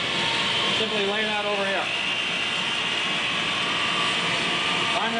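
A 3000 watt portable generator runs with a steady, loud hum and whine throughout, while someone talks briefly over it.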